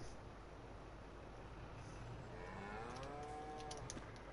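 Cattle moo in the Farming Simulator 22 farm game, one long drawn-out low call rising and falling in the second half, heard over a steady background hum.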